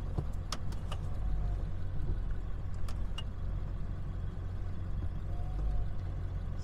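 A tow truck reverses on a rough mountain trail, its engine running steadily at low rumble close by, with a few faint clanks and creaks over the drone and no talk.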